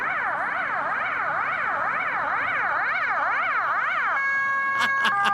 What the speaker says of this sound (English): wig-wag siren. That one.